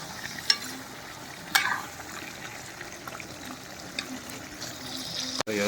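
Broiler chicken meat fries quietly in a pan, a soft continuous sizzle with a few sharp clinks of a utensil near the start and a knock near the end.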